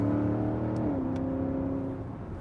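A 2021 Porsche Cayenne GTS SUV accelerates through a corner, its engine holding a steady, loud drone whose pitch drops and settles midway. Road and tyre noise run underneath, with no talk.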